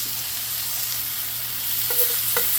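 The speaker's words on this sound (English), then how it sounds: "We wanna make sure those onions get nice and caramelized up under that meat." Onions fry and sizzle beneath smash burger meat on a hot griddle, a steady close hiss broken by a couple of short scraping scoops near the end.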